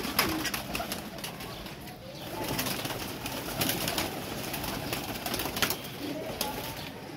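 Flying pigeons coo steadily and softly for several seconds, a dense overlapping murmur of calls close by, with faint bird chatter and no talking.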